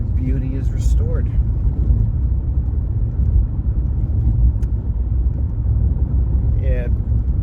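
A car drives along a wooded road in South Jersey, its engine and tire rumble steady and continuous throughout, with a couple of faint, brief chirps breaking through the low road noise.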